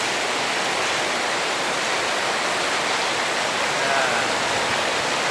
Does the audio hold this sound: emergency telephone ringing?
no